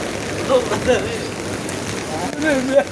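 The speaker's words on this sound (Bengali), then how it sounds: "বৃষ্টিও পড়তেছে মাথার উপরে ছাতা নিয়ে। অনেক মজার একটা বৃষ্টি।" Rain falls at night on an umbrella held overhead, a steady close patter with a few louder splashes and a voice speaking faintly in the background.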